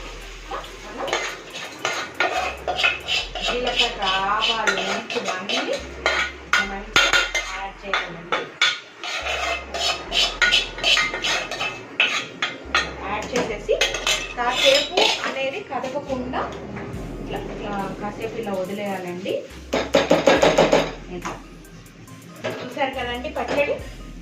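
Fried chillies are tipped into tomato pickle and mixed, with spoon and vessel clatter and scraping recurring throughout, mostly under continuous talking.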